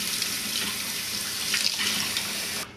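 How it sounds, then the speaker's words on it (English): Tap water runs steadily over peppers being rinsed in a strainer for a tomatillo-chipotle salsa, a close, continuous splashing hiss that cuts off abruptly near the end. "I'm rinsing now for the second or third time in another strainer"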